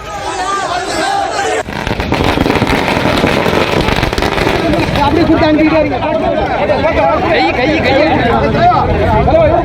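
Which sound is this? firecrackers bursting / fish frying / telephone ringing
firecrackers bursting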